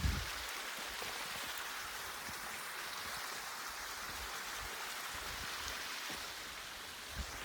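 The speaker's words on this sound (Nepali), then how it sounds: "यहाँ चाहिँ अहिले झर्ना नजिकै पुग्न आँट्यो हामी चाहिँ" Rushing water near a small waterfall on a hillside trail, a steady, fairly faint broadband roar with no talking.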